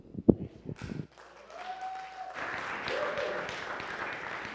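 Church crowd clapping and cheering for a guest speaker; a few thumps and brief voices open, then applause swells and holds steady, with a whistle-like tone rising through it.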